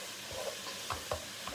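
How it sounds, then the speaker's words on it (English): Garlic frying in a hot pan, a steady low sizzle with a few soft scrapes of stirring, close and fairly quiet with no talk. "You have to fry off your garlic"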